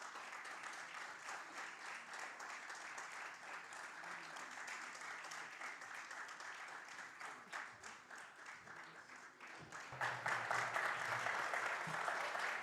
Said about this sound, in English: it'll be an honor to now welcome him on stage with a huge round of applause